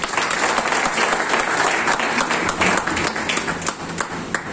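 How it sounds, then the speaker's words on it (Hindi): Audience applause for a speaker at a business seminar in Paratwada, India: dense, steady clapping from a sizable crowd filling the room throughout, with no speech. "तो सबसे पहले हमारे साधु सर की जोरदार तालियां"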